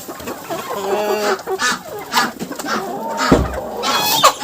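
Several chickens cluck busily nearby, overlapping bursts of calls with a bump or thud partway through.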